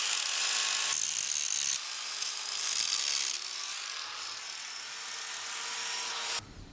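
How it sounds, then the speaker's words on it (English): An angle grinder cleans built-up ridges off steel pins on a FAE forestry mulching head, making loud, close, continuous grinding that eases to a quieter whine before cutting off. "just come through here with the angle grinder and just clean those up"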